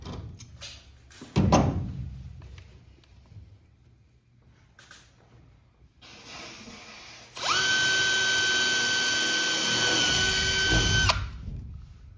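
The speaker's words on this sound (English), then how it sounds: "the guys are riveting in the nut plates for the bottom piece right now" Nut plates riveted onto the back edge of a vehicle windshield where it meets the sunroof: a few knocks and a clunk, then a loud, steady whine from a power tool running for several seconds, close by.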